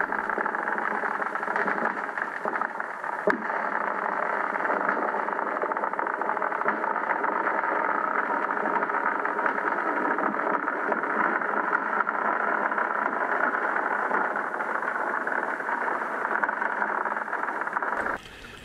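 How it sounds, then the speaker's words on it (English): A full-size truck driving across frozen lake ice, picked up underwater beneath the ice as a loud, continuous engine drone and rumble that holds steady for nearly the whole stretch before cutting off abruptly near the end. "This is the sound of a full-size truck driving across the ice."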